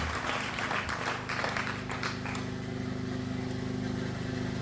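A church congregation applauding, a dense wash of clapping over a steady low hum, fairly distant, tapering into a continuous noisy rumble toward the end.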